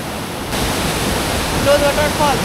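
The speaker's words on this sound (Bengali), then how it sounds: "এত সুন্দর একটা ফলসের সামনে দাঁড়িয়ে আছি" The Lodh waterfall rushes in a loud, dense, continuous roar of falling water, close by and unbroken.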